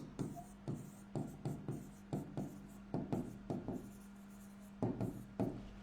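Pen writing by hand on paper during an accounting lesson, a series of short scratchy strokes in quick bursts, close and clear, over a steady low hum.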